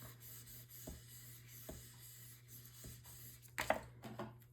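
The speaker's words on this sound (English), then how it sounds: "And then I'll press this down and burnish it." Paper is burnished along a score line for a Flutter mini album kit: soft, faint rubbing strokes over a low steady hum, ending in a brief, slightly louder scraping pass.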